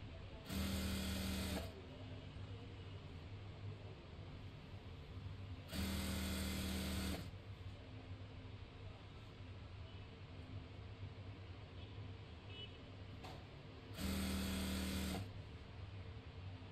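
Electric sewing machine stitching the folded hem of palazzo pants, running in three separate bursts of about a second each, loud and close, with quiet pauses between them.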